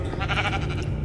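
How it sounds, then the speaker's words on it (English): Sheep bleating in Minecraft VR, a steady wavering cry lasting about a second, fairly loud and alone with no talk. "I heard a sheep, but I see no sheep."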